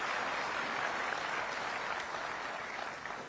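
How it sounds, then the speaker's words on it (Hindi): An audience applauds steadily to welcome a chief justice at a formal event, a dense continuous clapping that fades slightly toward the end. "इसके लिए जोरदार ताली बजा करके सीजे साहब का स्वागत करते हैं।"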